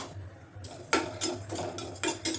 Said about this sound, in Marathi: तर आता पॅन तापलेला आहे, त्यामध्ये घालायचं आहे जिरं